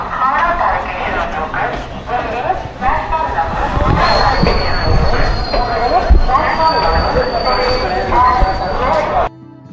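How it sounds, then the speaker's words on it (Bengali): A train pulling out of a station on an Indian railway journey toward Benaras, with continuous rumbling wheels, clattering carriages and a faint high squeal, loud and steady throughout, cutting off near the end. "ফাইনালি আমাদের ট্রেন একদম রাইট টাইমে ছেড়ে দিল।"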